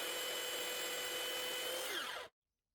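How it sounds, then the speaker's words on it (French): A belt sander sanding the wooden body of a Yamaha Pacifica electric guitar grinds continuously with a steady high-pitched whine, loud and close, then stops abruptly, leaving silence. "Pour ça, j'utilise ma ponceuse à bande."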